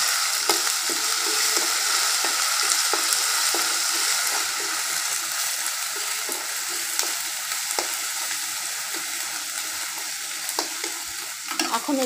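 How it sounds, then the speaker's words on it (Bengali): Ginger-garlic paste sizzles and fries with onions in a hot pan for a Bengali beef rib bhuna, a steady crackling hiss with the occasional stir of a spoon, close and continuous, with no voices. "আদা রসুনের পেস্টটাকে একটু ভাজা ভাজা করে নিচ্ছি।"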